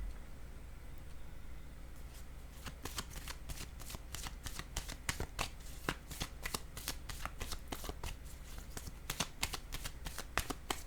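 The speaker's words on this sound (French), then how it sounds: "Je vais déposer une autre carte ici." Tarot cards are shuffled by hand in a steady run of crisp riffling flicks that grows denser and keeps going, close and fairly quiet over a faint room hum.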